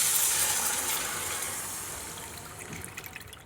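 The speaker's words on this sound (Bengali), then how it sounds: "এবারে জল দিয়ে দেবো" Water poured into a simmering kofta curry gravy made with raw plantain, a loud splashing gush at first that gradually tapers and thins into softer trickling and bubbling.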